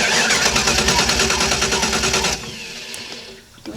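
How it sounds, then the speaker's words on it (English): Ski boat engine cranking over without firing, coil wire pulled off during winterizing: a rapid, rhythmic starter churn that runs loud and steady for about two seconds, then stops, leaving a quieter mechanical tail. "now we're just going to crank the engine to move that soap around."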